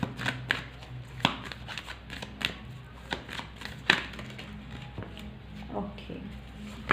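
Tarot cards being shuffled and drawn by hand, soft scattered flicks and slaps close up, several sharper card snaps standing out at irregular moments over a low background hum.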